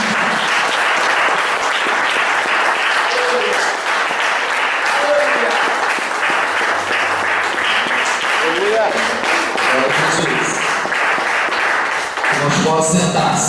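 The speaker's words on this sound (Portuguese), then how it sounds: "bem forte aplaudir o Senhor Jesus." A church congregation claps loudly and continuously together, a thick sustained roar of many hands with faint voices and shouts mixed in, ending in a brief burst of sound.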